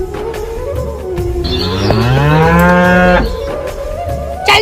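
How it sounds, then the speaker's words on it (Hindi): A buffalo moos loudly and close by in a field, one long drawn-out low bellow that rises and then falls away, with faint rustling and background noise before and after the call. "खेत में भैंस घुस गई, जल्दी जा, उन्हें भगा करा"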